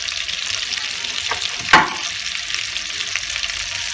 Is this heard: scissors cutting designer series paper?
no